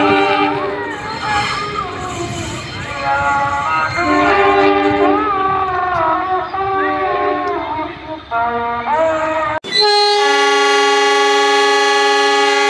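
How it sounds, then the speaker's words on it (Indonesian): A locomotive on a test run along the Bogor-Sukabumi double track roars past loudly and close, then sounds a long sustained horn blast; a voice talks briefly over the rumble. "Uji coba lokomotif pertama sangat luar biasa dari mulai jembatan Alamin hingga stasiun Cicurug"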